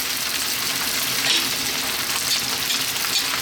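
Whole plum tomatoes from a can go into a simmering chicken and potato stew, and a steady broadband sizzle and bubbling wash fills the pot at a constant level with no talk over it.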